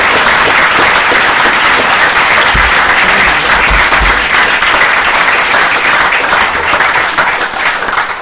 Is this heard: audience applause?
yes